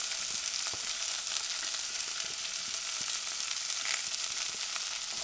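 Carrots and celery browning in a pan over a medium to low flame, giving a steady, close hiss of frying with faint crackles throughout and no talk.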